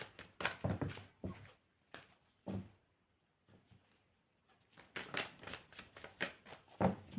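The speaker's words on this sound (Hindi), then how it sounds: "My last shuffle." A deck of tarot cards is shuffled by hand in quick, crisp riffling bursts close by, with a short pause partway through and a last burst of shuffling.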